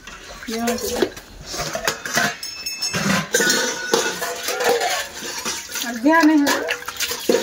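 Metal household utensils and pots clink and clatter near running or splashing water, with people talking throughout.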